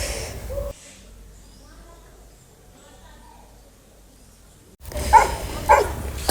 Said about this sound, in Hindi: तो रानी यहाँ दूसरे कुत्तों को देख के भौंक रही थी